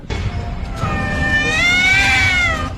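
A drawn-out, wavering meow from a human voice imitating a cat, rising and falling over a couple of seconds against a low background rumble.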